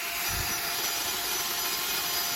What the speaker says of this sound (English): I'm just drilling above the trash because it's just better